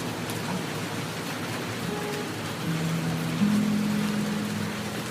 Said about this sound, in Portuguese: Presta atenção no som da chuva caindo